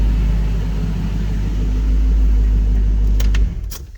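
Engine of a 2005 Dodge Magnum RT with 262,000 miles, running in a garage, rumbles steadily and loudly up close, then cuts off abruptly near the end, leaving a fading tail and a couple of faint clicks.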